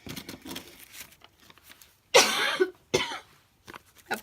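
A sharp, harsh cough bursts out, followed by a second shorter cough, with quiet rustling before and after.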